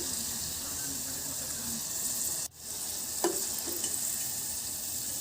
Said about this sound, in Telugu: ఈ విధంగా దోరగా వేగేంత వరకు వేయించుకోవాలి.